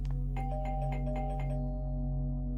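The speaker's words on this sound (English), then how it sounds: "That deadass sounds exactly like my doorbell." A doorbell in the video game Tiny Bunny rings with a rapid series of chiming strikes over a low, constant hum, then its tone fades while the drone continues.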